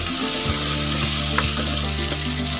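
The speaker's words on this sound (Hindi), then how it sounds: "टमाटर को इस तरीके से आप थोड़ा सा चला लें।" Chopped tomatoes frying in a hot pan for chole masala chaat, a loud, steady sizzle with a few soft stirring scrapes as they are moved around, no voices.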